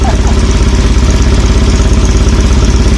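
A 1970 BSA Thunderbolt 650 British motorcycle engine, recently kicked into life during wiring repairs, runs loud and close with a steady, thumping idle pulse.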